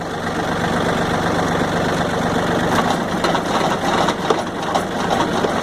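The diesel engine of a John Deere 4300 compact tractor with a broken float runs at a steady idle, a loud, dense rumble with a faint rhythmic knock and some rattling, heard up close without speech.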